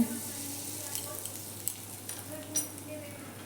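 Asafoetida hits hot oil in a wok with a soft, steady sizzle, small pops and crackles scattered over the low frying hiss.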